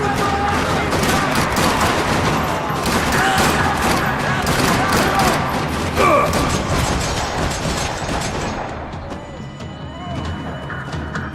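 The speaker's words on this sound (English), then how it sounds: "Another parking lot rattling with gunfire." Dense, rapid gunfire in a parking lot in Max Payne 3, loud bursts of automatic fire and rattling shots continuing for about ten seconds before thinning out, with voices mixed in.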